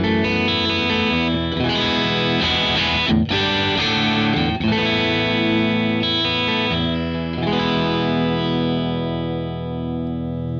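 Electric guitar played through a ToneX amp modeler with gain, giving a distorted, sustained chordal tone that rings continuously with slight effects shimmer and no talking.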